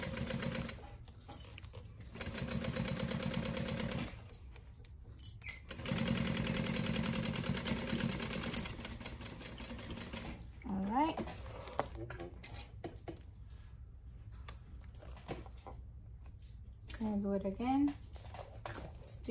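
A sewing machine stitches through thick layers of a crossbody bag in several bursts of steady whirring, pausing between runs, with someone speaking briefly during the gaps.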